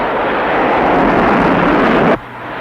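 Navy, Marine or Air Force fighter bomber aircraft in the Vietnam war passing overhead, a loud continuous jet roar that cuts off abruptly near the end.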